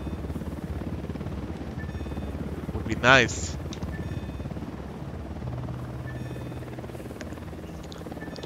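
A helicopter in the video game Ghost Recon Wildlands drones as a steady rotor hum under a man's speech, with a brief louder burst of game sound midway.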